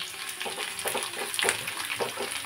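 Onions and carrots frying in a pan, a steady close sizzle with soft stirring scrapes and bursts of crackle throughout, no voices.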